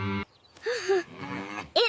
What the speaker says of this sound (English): It is a very big cow. Moo!